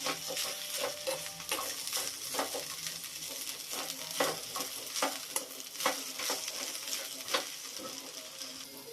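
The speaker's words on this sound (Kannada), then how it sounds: "ಇವಾಗ ಇದನ್ನು ಚೆನ್ನಾಗಿ ಫ್ರೈ ಮಾಡ್ಕೊಳ್ಳೋಣ ಅಂದರೆ ಮೀಡಿಯಮ್ ಉರಿ ಅಂತ ಅಂದ್ರೆ ಐ ಟೈಮಲ್ಲಿ ಇಟ್ಕೊಂಡು ಹೋಗೋದು" Okra sizzles over medium heat in a pan while a spatula stirs it, giving a steady frying hiss punctuated by regular scraping and clinking strokes, fairly close and moderately loud.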